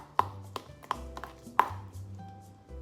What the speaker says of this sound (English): Then we can start to mash it up a little bit.